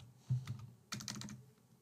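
A bot username is typed on a computer keyboard in a few soft, close clusters of keystrokes. Brief pauses separate the bursts, and no voice is heard over the clicks.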